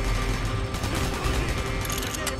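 Dense, rapid gunfire in the video game Call of Duty: Black Ops rattles and crackles nonstop, loud and close, with bursts overlapping into a chaotic barrage.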